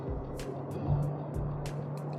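A steady low engine drone hums inside a moving MG VS HEV hybrid car accelerating near Pathum Speedway, with road and tire noise washing over it and a few faint clicks.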